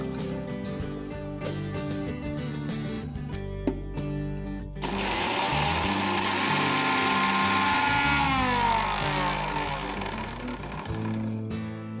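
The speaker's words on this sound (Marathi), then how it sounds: "आता मिक्सर मधनं आपण बारीक करून घ्यायची ही पावडर" A mixer grinder grinding seeds to powder whirs steadily, then jumps to a loud, harsh grinding roar for several seconds before settling back to a lower hum.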